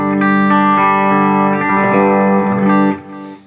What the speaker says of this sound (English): let's go back to the Fender 68 Custom Deluxe Reverb